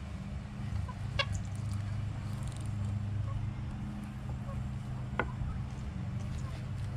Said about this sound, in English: Got the chickens running around everywhere.